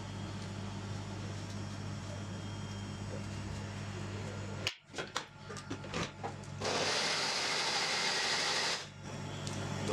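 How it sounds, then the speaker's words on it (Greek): A kitchen blender chops tomatoes, starting after a few clicks and knocks with a loud, steady whirring burst of a couple of seconds that cuts off abruptly, over constant background hum. "παίρνουμε το blender, το ανοίγουμε και κόβουμε"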